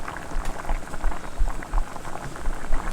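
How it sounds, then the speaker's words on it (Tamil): Chicken liver gravy bubbling at a steady boil in a pot, a close, continuous patter of popping bubbles with soft low thumps. "வாட்டர் ஊற்றிட்டு நல்லா கொதிக்கிட்டோம் பாருங்கள்."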